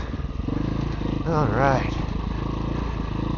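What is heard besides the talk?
motorcycle engine on hill climb, engine braking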